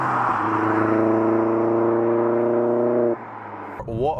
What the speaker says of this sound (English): It's not the fastest car in the world, but... It feels fast.